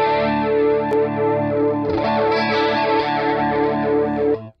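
Sustained electric guitar chords through a Brian May style amp model with a lush, swirling chorus effect, loud and close, ringing steadily for several seconds before cutting off.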